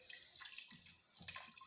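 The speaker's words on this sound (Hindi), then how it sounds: "तो अब पनीर के ऊपर ये ठंडा पानी हम ऐड करेंगे," Cold water is poured over freshly made paneer in a kitchen sink while preparing rasgulla, producing soft, close splashing and trickling in short uneven bursts.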